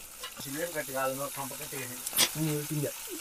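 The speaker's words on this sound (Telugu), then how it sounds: "నూనెలో వేసారు కాబట్టి బాగా అయితే కాలుతున్నది" Fish frying in hot oil outdoors in a village, a steady crackling sizzle running underneath someone talking throughout.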